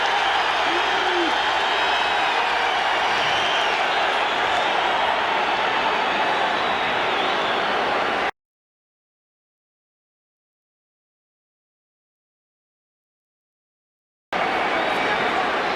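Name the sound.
stadium crowd noise at football game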